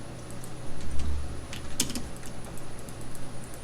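Quick bursts of computer keyboard typing while entering values in CAD software, several soft key clicks with one sharper tap, close and quiet over a low hum.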